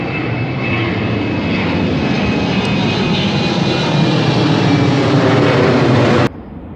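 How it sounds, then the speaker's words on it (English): A propeller airplane flies overhead outdoors with a loud, steady engine drone that fills the scene and then cuts off abruptly near the end. "Sorry, airplane."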